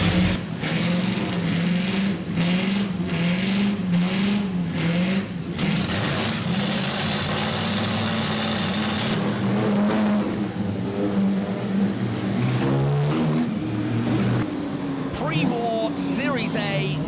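Historic race cars at the Monaco Historic Grand Prix rev and accelerate loudly through the streets, engines rising and falling in pitch over a steady roar, with a voice talking over the noise throughout.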